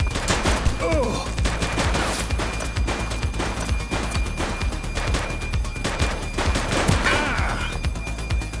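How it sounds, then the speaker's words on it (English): A police shootout in The Precinct video game, with dense, rapid gunfire volleys and crackling bursts overlapping continuously at close range for the whole stretch. "He's shooting!"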